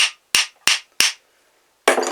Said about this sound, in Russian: А задний центр выбивается легким ударом молотка.